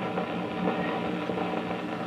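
A Gray Audograph dictating machine runs on its own, giving off a steady, moderately loud mechanical hum with a faint vibrating texture and no voices.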